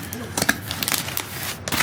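Packaging crinkles and rustles while a VTTO catch can for a Mk7 Golf R is unboxed, short close crackling bursts with a voice speaking.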